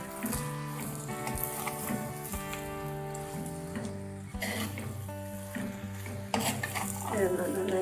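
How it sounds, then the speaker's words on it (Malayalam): Squid stir-fry for kanava thoran gets stirred in a hot pan, giving a constant crackling sizzle with scraping stirs close by. Steady tonal music plays underneath throughout. "ഇതൊന്ന് നന്നായി ഇളക്കി ചേർക്കാം."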